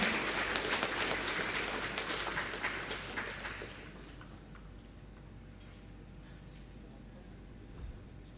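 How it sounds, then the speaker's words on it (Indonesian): Audience applause at a university alumni testimonial ceremony: a dense burst of clapping fills the first few seconds, then fades away into a quiet hall. "Berikan aplaus yang meriah untuk beliau."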